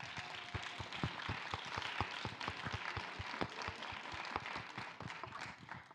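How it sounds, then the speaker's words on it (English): Steady applause from a pageant audience greeting a judge, with many distinct hand claps in a fairly even rhythm, moderately close, continuing without voices over it. "May we please give a round of applause to Rita W."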